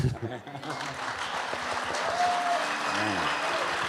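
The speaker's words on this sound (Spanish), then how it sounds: "Fuertes aplausos al Señor, hermanos." A church congregation applauds in praise during a service, a steady mass of clapping that builds and holds, with voices speaking and calling out over it.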